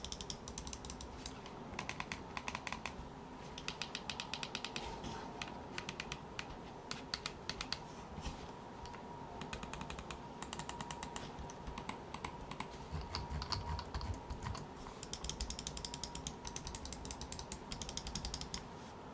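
Mouse buttons on a Corsair Nightsword RGB and M55 RGB Pro gaming mouse click rapidly and repeatedly, producing a faint, close, dense patter of light plastic clicks with no voices.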